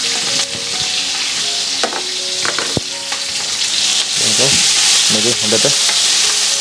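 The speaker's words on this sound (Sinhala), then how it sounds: "මේ කලවම් කර කර මේ හැන්දෙන් මේක බැදින්න අරින්න ටිකක්." Chickpeas fry loudly in a pan for a Sri Lankan chickpea baduma, with a steady sizzle and repeated scraping of a spoon as they are stirred; a voice speaks briefly.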